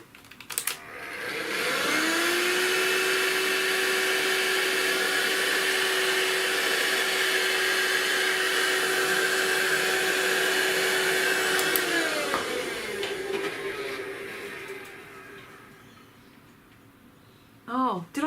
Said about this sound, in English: I'm going to use my vacuum cleaner